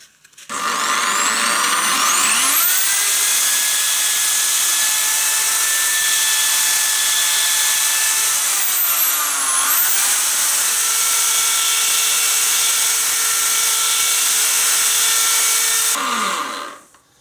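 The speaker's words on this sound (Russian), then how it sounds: "направление дрели желательно изменить на от себя" A power drill whirs steadily at high speed for a long stretch, pitch shifting slightly as it grinds down a fishing rod handle, starting and stopping abruptly.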